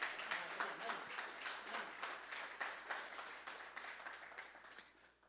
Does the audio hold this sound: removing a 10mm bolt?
no